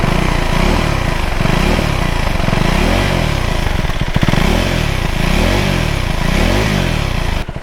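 A 2025 KTM 390 Adventure S single-cylinder motorcycle revs loudly and close, its exhaust rising and falling in a steady series of throttle blips.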